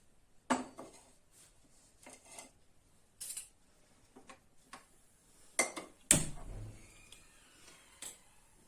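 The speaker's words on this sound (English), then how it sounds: "we'll take a frying pan and put it on gas stove." Metal cookware clanks and knocks several times in a quiet kitchen, with one louder clatter of a frying pan being set down on a gas stove.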